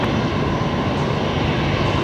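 Airliner engines at Brisbane Airport roar steadily and loudly as the aircraft lines up on the runway, a dense continuous drone with no voices over it.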